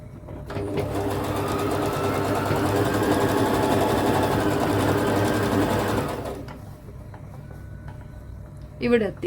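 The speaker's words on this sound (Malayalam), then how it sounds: "അപ്പൊ ഇവിടം വരെ നമുക്ക് ഇതുപോലെ മടക്കി കൊടുത്ത് തയ്ക്കണം." A sewing machine runs steadily, stitching a folded fabric seam for about six seconds, then stops, leaving quieter handling sounds and a brief clatter near the end.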